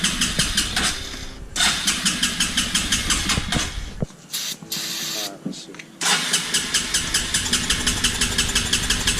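A Suzuki Ozark with recent carburetor work is fired on its electric start with the choke on: rhythmic cranking pulses, a brief break, then the small engine catching and running at a steady idle, with people talking nearby.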